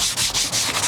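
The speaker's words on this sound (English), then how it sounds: "just gonna scrub everything down real quick. All the trim." A Ninja scrub brush works over dirty car interior trim in quick rhythmic back-and-forth strokes, a close, loud bristly rubbing that repeats about five times in under a second.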